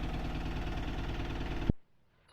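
Engine idling after an oil change, a steady mid-pitched running note that holds evenly for under two seconds, then a sharp knock and an abrupt cutoff into near silence.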